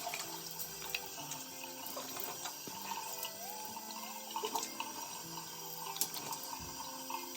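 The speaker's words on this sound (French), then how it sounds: "Donc là, maintenant, je me rince le visage." Tap water runs into a sink while a face is rinsed, a continuous splashing flow with small irregular splashes and drips, close and moderately quiet.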